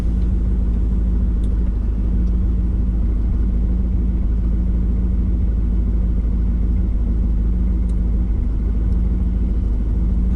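A big-block car engine idles in the winter cold, a steady deep rumble with a constant low throb and no revving, loud and close throughout.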